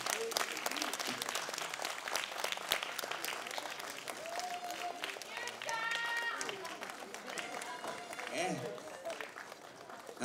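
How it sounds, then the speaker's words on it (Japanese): Audience members at a Japanese song festival clap for a lineup of performers walking on stage, with dense sustained applause under steady talk, faint music, and scattered voices throughout. "皆さん大きな拍手お願いします。"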